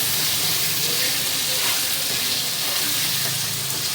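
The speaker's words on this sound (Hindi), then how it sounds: "मैंने फ्लेम तेज़ कर दिया है ताकि ये अच्छे से फ्राई हो जाए।" Chicken kabab Manchurian frying in a pan over a high flame, giving a loud, steady hissing sizzle that continues throughout without pauses.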